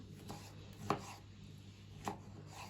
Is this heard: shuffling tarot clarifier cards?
no